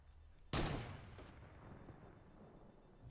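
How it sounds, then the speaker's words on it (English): A single loud gunshot blast in Fortnite, fired through a built wall, hitting sharply and then trailing off into a fading rumble and hiss. "I shoot the wall and kill the guy."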